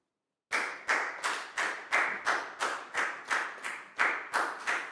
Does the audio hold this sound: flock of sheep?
no